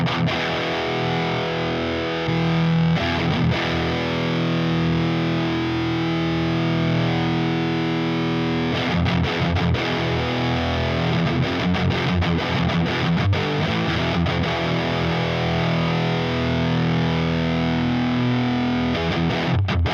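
Electric guitar played through Donner distortion and overdrive pedals stacked together, giving a thick, saturated, sustained tone with dense harmonics; chords ring continuously at steady loudness for the full stretch, with brief choppy pauses and re-strikes in the middle.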